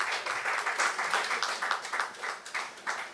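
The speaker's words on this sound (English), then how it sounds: "Could you put your hands together and give him a lofty round of applause?" Applause from the audience at a Kwanzaa cultural celebration, a dense steady patter of many hands clapping at moderate volume for about three seconds, with no speech over it.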